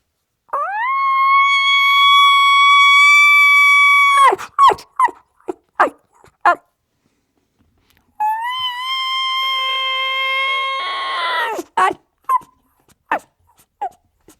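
A voice imitates a bull elk's bugle twice: each call is a long, rising, whistling tone followed by a run of short, sharp grunts.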